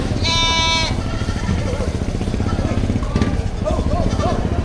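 Goats bleat loudly at a livestock market in Padre Garcia, Batangas, one sharp call up close followed by fainter bleats amid busy crowd chatter and talking.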